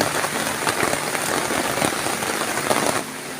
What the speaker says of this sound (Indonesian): Hujan lebat, petir menyambar-nyambar.